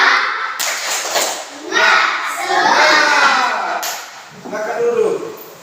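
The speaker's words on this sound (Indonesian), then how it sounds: "kita tepuk semangat dulu" A classroom of schoolchildren performs a rhythmic spirit clapping routine, bursts of group claps mixed with children's chanting and shouting voices, close and fairly loud, rising and falling in waves.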